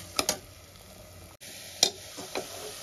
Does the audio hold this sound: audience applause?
no